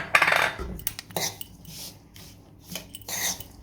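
A spoon scrapes and clinks around a bowl, mixing sliced almonds and pistachio slivers into a modak filling for Ganesh Chaturthi bhog, with a few sharp taps among steady rubbing strokes, close and moderately loud.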